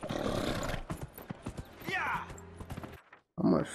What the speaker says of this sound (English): You ain't never seen a horse gallop